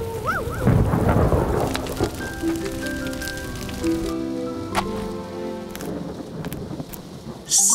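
Rolling thunder rumbles through a steady rainstorm, rain pattering on surfaces throughout while a deep boom swells early and a softer rumble follows later, with music playing faintly underneath.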